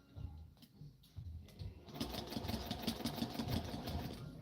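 A sewing machine stitches a dart in fabric. After a quiet start, the motor comes in and runs in a steady rhythmic whir for the last couple of seconds.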